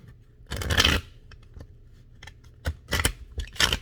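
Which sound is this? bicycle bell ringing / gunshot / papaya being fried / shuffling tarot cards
shuffling tarot cards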